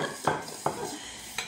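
A utensil stirs couscous dough in a pan, giving a few soft scraping strokes against the metal over a low steady background hiss.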